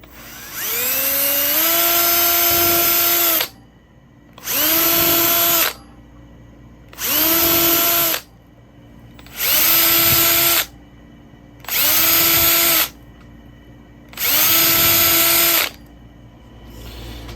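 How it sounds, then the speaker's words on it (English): Power drill boring through four stacked layers of leather: six loud bursts of whining motor, each spinning up, running about two seconds and cutting off, with short pauses between them. "when you're going through 4 pieces of leather, I'm using a drill bit"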